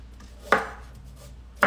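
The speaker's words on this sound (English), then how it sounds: "You just want to chop your vegetables into kind of smaller pieces." Knife chopping carrots and zucchini on a cutting board, two sharp separate thumps in a quiet room with faint handling noise between them.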